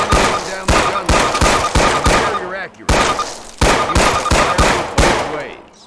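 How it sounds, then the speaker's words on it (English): A Thompson submachine gun fires in Call of Duty 1 training, loud close single shots in an even rhythm, five then a pause, then five more, each with a short ringing tail. "Fire 10 rounds at your target."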